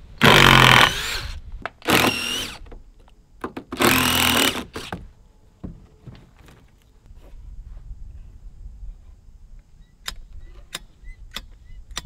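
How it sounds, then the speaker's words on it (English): A power drill backs screws out of a 2x4 board during cabin chimney work, with two or three loud whirring bursts in the first five seconds followed by quieter clicks and handling noises. "and now I think I'm gonna screw it off."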